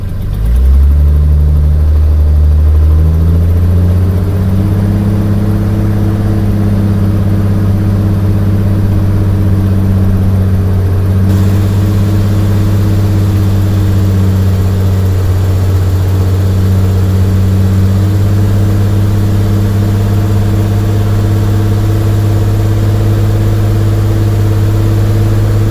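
A Jeep XJ engine held at a steady fast idle around 2,000 RPM during a Seafoam treatment, a loud continuous drone that rises briefly at the start and then stays even for the rest of the run, with no talking.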